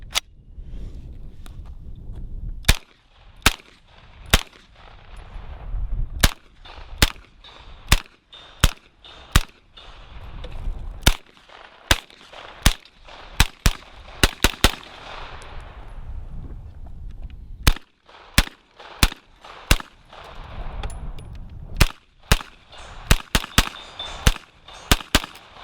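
A DRACO NAK-9 9mm pistol fires a long series of sharp, loud single shots at an uneven pace, some in quick pairs, with outdoor range ambience between them.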